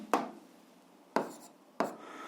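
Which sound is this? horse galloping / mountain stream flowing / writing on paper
writing on paper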